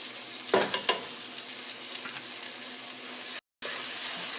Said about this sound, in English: we're going to cook this down for about 5 minutes or until the veggies start to soften